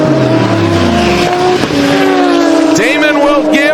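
Drag racing cars at a racing event roar loudly with engines revving and changing pitch, and tires spin and squeal, while an announcer commentates over the noise throughout.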